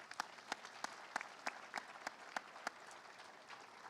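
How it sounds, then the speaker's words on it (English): Sparse, light clapping at a high school graduation ceremony, a handful of distinct claps spaced about evenly, faint and somewhat distant, fading out over the last second. "Let's give you guys a round of applause for where we are."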